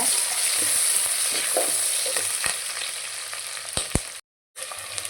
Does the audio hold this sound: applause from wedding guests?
no